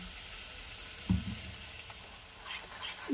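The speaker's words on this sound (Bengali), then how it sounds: "এবারে ঝোলটা ফুটে উঠবে।" Bengali-style pabda fish curry broth in a pan, a soft steady sizzle and bubbling with a brief louder clunk of stirring near the start, heard alone without talk.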